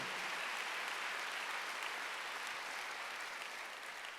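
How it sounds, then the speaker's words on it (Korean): A church congregation at a Wednesday worship service breaks into sustained applause, a dense, steady wash of many hands clapping that fills the room and tapers slightly toward the end. "빨리 박수"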